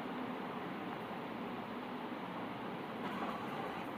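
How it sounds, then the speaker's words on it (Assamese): A passenger train bound for Guwahati in Assam, heard from inside a carriage while moving. A steady, even rumble and rushing hum hold throughout at low level without voices. "এয়া ট্ৰেইনত আমি উঠি গ'লোঁ।"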